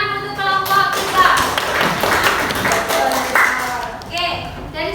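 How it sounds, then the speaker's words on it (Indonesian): Classroom students clap for a group of classmates, a loose patter of hands under overlapping chatter and voices, fairly close and uneven, with a few sharper taps standing out. "tepuk tangan untuk kelompok kita."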